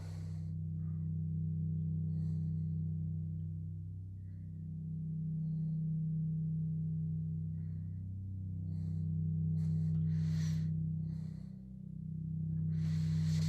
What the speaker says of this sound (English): So we actually have two different tones here that are really close.